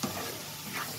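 Sundakai, small turkey berries, frying in oil as a steady close sizzle that stays even throughout a brief moment, with no voices over it.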